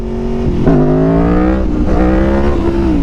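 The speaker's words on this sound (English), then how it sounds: "Hear my bike rev up." Motorcycle engine revving hard in second gear around 5,000 rpm for a power wheelie, a loud continuous drone whose pitch rises and dips in several surges, close up with no talking.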